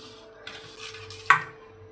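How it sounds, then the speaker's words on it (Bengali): Paneer being tossed with chaat masala in a bowl: soft scraping and stirring, then one sharp utensil clink near the end, close and fairly quiet. "ভালো করে চাট মশলাটা মাখিয়ে নেব।"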